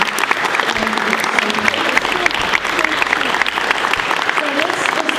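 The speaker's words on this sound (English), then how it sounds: "please, a round of applause" Guests at a 60th birthday party applauding, a full room of steady clapping with scattered voices and cheers mixed in, sustained throughout.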